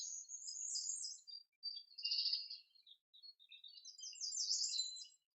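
Small birds chirp and twitter in high, thin bursts outside a treehouse, with short pauses between phrases. The songs are clear but fairly faint, with no talking.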